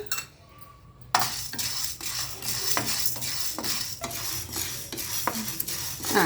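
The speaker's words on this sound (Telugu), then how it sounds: "ప్యాన్ పెట్టుకొని పప్పు మినపప్పు లైట్గా వేయించుకుందాం." Urad dal is dry roasted in a pan for a drumstick leaf spice powder, with a light sizzle and regular scraping and clinking strokes of a spatula against the pan, close by and without talk.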